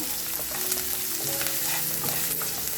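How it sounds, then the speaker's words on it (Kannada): Garlic tempering with green chillies crackles and sizzles steadily in hot oil in a home kitchen, a continuous close frying hiss with faint utensil touches and no talk. "ಇವಾಗ ಫ್ರೈ ಮಾಡ್ಕೊಬೇಕು ಬೆಳ್ಳುಳ್ಳಿ ಸ್ವಲ್ಪ ಹಸಿ ವಾಸನೆ ಹೋದರೆ ಚೆನ್ನಾಗಿ ಬರುತ್ತೆ ಸ್ಮೆಲ್ಲು"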